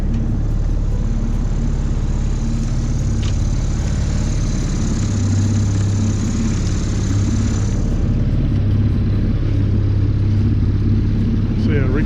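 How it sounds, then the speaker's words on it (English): A large motorboat's engine drones loudly and steadily throughout in Maitland Bay, a deep continuous engine hum with a higher whine that fades partway through. "got a big boat going out of here"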